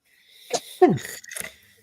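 A single close sneeze with a sharp intake and burst, followed by a short breathy exhale, alone in a quiet room.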